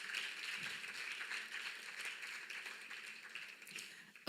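Conference audience applauding a finished session, a steady broad wash of clapping that holds evenly throughout with no talk over it.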